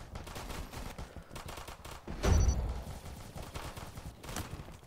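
Gunfire rings out in a video game, a faint scatter of quick shots with one sharper, louder burst near the middle, set under a steady game background.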